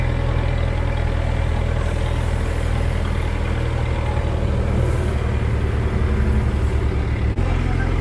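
Boat engine roaring steadily at full throttle on a Cambodian river, a loud continuous low drone that fills the whole stretch with no pauses.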